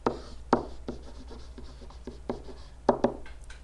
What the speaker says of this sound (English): let me write the word domain